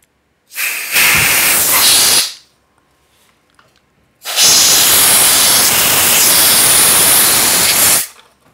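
Lens cleaner spray hisses in two bursts, a short one followed by a longer sustained spray, each loud and close with silence between.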